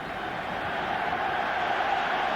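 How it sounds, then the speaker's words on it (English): A large football crowd at the 1986 Dundee United v Rangers League Cup semi-final applauds Ted McMinn leaving the field, a steady, dense wash of clapping and crowd noise from a distance. "So the applause you now hear is for Ted McMinn, who's leaving the field"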